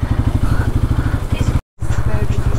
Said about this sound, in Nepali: म यहाँ बाइक हाल्छु